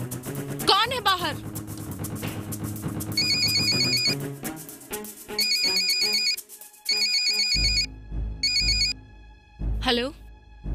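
A phone ringtone plays in a Hindi horror film scene, a repeating electronic melody in bursts with gaps between rings, alongside voices talking and short musical stings.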